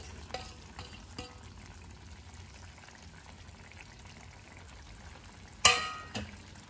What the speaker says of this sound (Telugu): ఒకసారి చిన్నగా కలుపుతున్నాము.